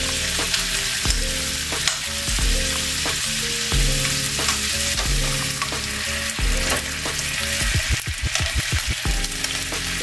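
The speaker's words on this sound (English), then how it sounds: "So I got the rest of my other ones in the pan to brown." Pieces of stew beef brown in a pan for a crockpot vegetable beef stew, giving a loud, continuous sizzle with scattered clicks and spatters throughout.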